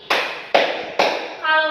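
Students in a classroom clap in unison on a teacher's cue, three crisp group claps spaced about half a second apart, followed by a brief voice.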